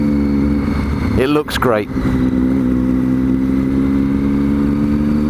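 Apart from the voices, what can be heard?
2012 model motorcycle engine revving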